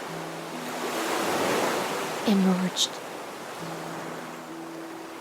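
Broad washing surf of a vast, pure ocean in the video game Honkai Star Rail, a steady wide rush under soft music tones, with a short spoken phrase midway.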